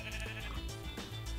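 A Minecraft sheep gives a few short, wavering bleats, close and clear over background game music.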